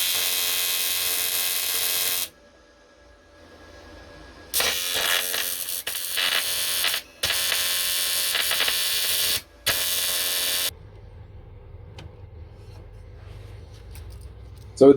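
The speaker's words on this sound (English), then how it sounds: "All I need to do now is weld it on." A steel bracket is welded onto a washer bottle tank in several loud, crackling buzzing bursts of a few seconds each, separated by brief silences, with quiet workshop sounds afterward.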